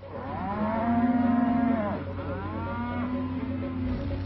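Beef steers in a huge feedlot give long, loud, droning moos, with one low call following another and a steady hum of the herd behind them.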